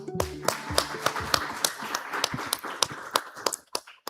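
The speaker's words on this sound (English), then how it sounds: "please welcome Dr. Hwang with a warm round of applause" At a Bank of Korea, CEPR and OECD economics conference, the audience welcomes a speaker with moderate clapping. The individual claps are distinct and fairly close, with voices underneath at first, and they taper off near the end.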